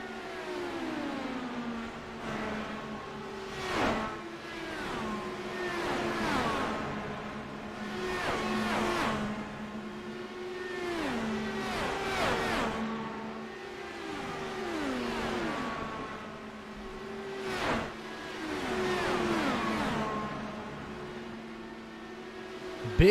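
Several IndyCar race cars scream past in a video game race, engines rising and falling in pitch with repeated Doppler sweeps as cars pass one after another, steady and mid-distance with no talk.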